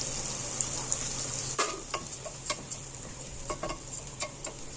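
A quarter kilo of rice frying in hot ghee with a little vegetable oil, a soft steady sizzle with a high whine early on, then a run of light scraping stirs and taps.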